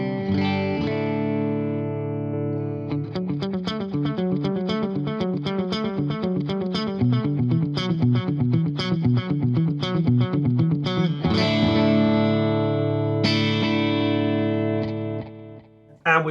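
A clean-toned electric guitar played through a Boss Tube Amp Expander Core and recorded by a microphone on the cabinet front, with ringing chords opening into rapid rhythmic picked patterns and more sustained chords, full and loud with reverb, no talking.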